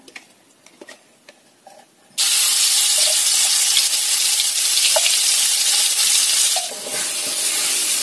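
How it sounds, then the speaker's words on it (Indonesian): Ground spice paste dropped into a little hot oil bursts into a loud, steady sizzle after a quiet start with a few clinks, the frying hiss continuing close and strong to the end. "Kita panaskan minyak sedikit aja karena kita menghaluskan bumbu sudah menggunakan minyak. Kita masukkan bumbunya yang sudah kita haluskan."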